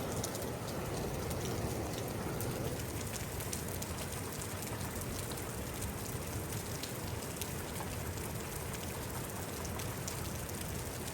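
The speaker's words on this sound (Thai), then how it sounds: "ยังมาฝนตกคือเก่าอยู่" Typhoon rain falls in Xaysomboun, Laos, as a steady, soft, even hiss of drops pattering on surfaces, faint and continuous with no voices.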